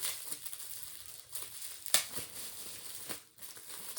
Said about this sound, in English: I'm going to go ahead and rip this open.